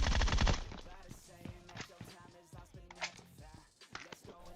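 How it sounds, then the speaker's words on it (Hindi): PUBG Mobile gunfire: rapid, crackling bursts of automatic shots, loud at the start and then repeated in shorter volleys, mixed with game sounds and a voice talking. "बस गोलियां पेलनी है।"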